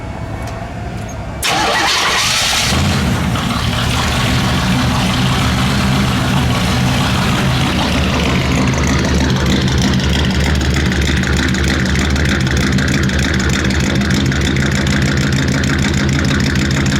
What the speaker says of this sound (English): We'll start it. We'll let it idle.